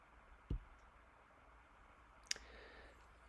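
Computer mouse clicked on an OK button, heard as two sharp, faint, isolated clicks about two seconds apart over a quiet room hiss.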